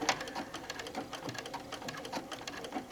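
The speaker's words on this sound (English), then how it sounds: "So you can see how it's going to stitch in place for me." A sewing machine stitches in place on a quilt, its needle running in a fast, steady mechanical rhythm, close and clear with no talking.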